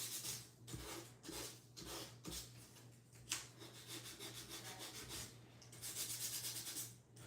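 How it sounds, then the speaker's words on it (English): Sandpaper rubs back and forth on scrapbook paper in steady, scratchy strokes, close up and fairly quiet, with no talking. "I'm just gonna kind of like really kind of sand that"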